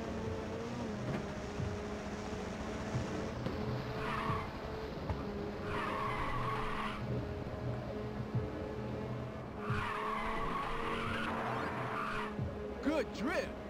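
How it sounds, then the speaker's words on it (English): Drifting car in Ridge Racer 2 on a steady engine drone, with three long tire squeals rising and fading, each lasting a second or two, loud over the constant game soundtrack. "Good drift."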